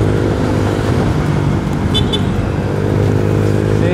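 A Honda Click 125i scooter with a remapped stock ECU accelerates hard on a test ride, its engine droning loud and steady the whole time with road and wind noise mixed in.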